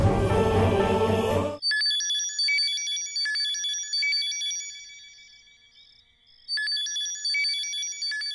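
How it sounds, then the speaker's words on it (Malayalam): A telephone rings in repeated electronic trilling bursts, alone and clear, after a short stretch of dramatic music, with a brief pause before the ringing resumes. "ഇതിപ്പോ 10-18 തവണയായി നീ ഫോൺ എടുക്കാത്തോണ്ട അവരെന്നെ വിളിക്കുന്നത്"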